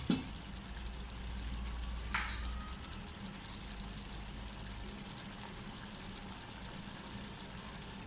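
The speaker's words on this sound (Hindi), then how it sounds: "अब इसका पानी ड्राई होने तक इसे हम भूनेंगे इन्हें।" Soaked basmati rice fries in a pot for village-style chicken pulao, giving a steady soft sizzle with a brief scrape of stirring early on, close and fairly quiet with no talking.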